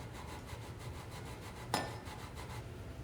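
Cheese being grated by hand for cacio e pepe, a steady run of soft rhythmic rasping strokes at close range with one sharper scrape midway, no talking.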